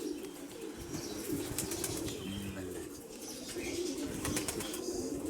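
Pigeons flap and flutter overhead outdoors, a steady rustling of wings running through the whole stretch at moderate loudness, with faint chirps and coos mixed in.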